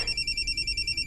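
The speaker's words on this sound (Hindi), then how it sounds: "ससुर जी का फोन है।" A telephone rings nearby in fast, evenly spaced electronic trills that repeat steadily through the clip with no speech.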